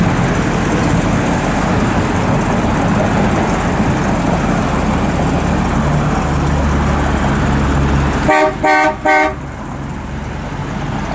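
A 1958 Chevrolet Impala's horn gives a few short, loud honks in quick succession over a steady engine idle, the idle running on after the honks end.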